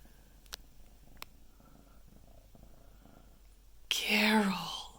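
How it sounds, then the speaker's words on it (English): A pet cat purrs close by at someone's feet in a kitchen, a faint low rumble with a couple of small clicks, then a louder breathy rustle near the end. "She just instantly starts purring."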